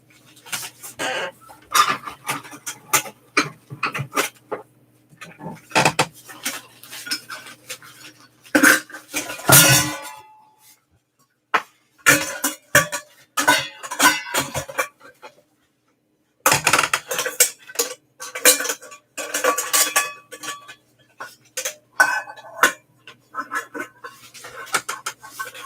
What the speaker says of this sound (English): I will take one of those things back out and put my saucepan set in there